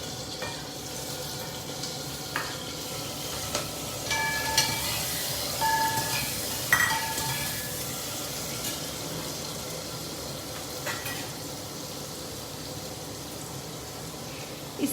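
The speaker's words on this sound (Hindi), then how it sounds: "अब मैं उसमें जीरा भुन गया है तो मैं इसमें अपना मिर्च और ये डाल दूँ" Chili added to a cumin tempering fries in hot oil with a soft, steady sizzle and faint scattered crackles, low in level, with a few clinks of utensils and no speech.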